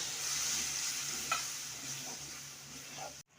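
Spice masala sizzles steadily in hot oil, with a soft hiss and a few faint stirring taps as a little water goes in, before the sound cuts off abruptly near the end.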